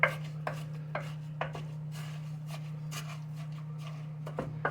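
Panko plain breadcrumbs being mixed into a patty mixture in a kitchen: soft, repeated rubbing and squishing strokes with faint utensil clicks, close and quiet over a steady low hum.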